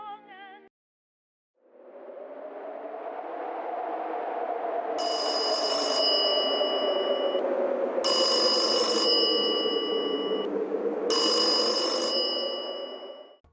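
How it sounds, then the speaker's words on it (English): An old telephone bell rings in three loud, evenly spaced bursts over a low, droning atmospheric tone, with a short electronic blip at the very start. "According to Jenny, the phone rang strangely around midnight."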